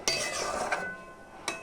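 A metal spatula scrapes and clinks against a kadai while spices are stirred into warm water for a shahi paneer gravy, with a few close, bright scraping strokes and a sharp clink near the end.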